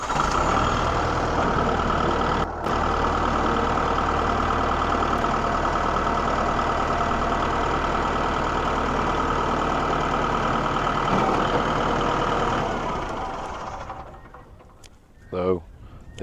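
Kubota MX5200 tractor engine running at a steady, loud diesel idle with a low, even drone, cutting off near the end, followed by a few brief clanks.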